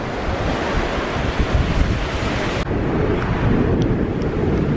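Loud sea waves wash onto the beach at Filey under strong buffeting wind that roars across the microphone, a continuous close surf rush with no voices.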